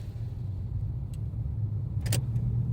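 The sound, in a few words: car engine driving in gear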